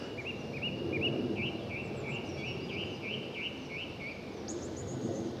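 A song thrush sings repeated, varied phrases along a riverside walking path in Surrey countryside, the clear fluting calls fairly near and steady over soft outdoor background noise, with no talk.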